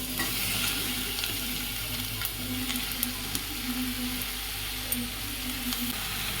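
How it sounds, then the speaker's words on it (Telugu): Chicken fries in ginger garlic paste with a dense, constant sizzle and crackle, close and fairly loud, dotted with occasional sharp pops and light stirring clicks, with no speech. "ఇప్పుడు ఇందులో మనము శుభ్రంగా కడిగి పెట్టుకున్న 1/2 కేజీ చికెన్ వేసుకోవాలి."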